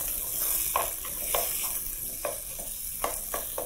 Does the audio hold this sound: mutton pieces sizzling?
yes